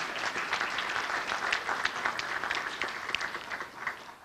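An audience applauds student presenters at a university research day keynote event, steady dense clapping from a sizable crowd held at an even level throughout, no voices on top.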